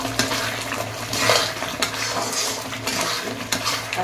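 A spoon stirs coriander powder and masala frying in oil in a metal pan while rajma is being cooked, giving steady scraping and clinking of utensil on pan, fairly close and continuous with no talk.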